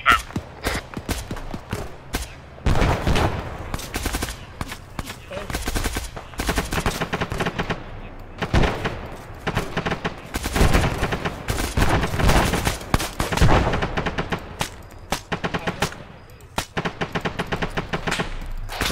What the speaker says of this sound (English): Section, open up, rapid fire.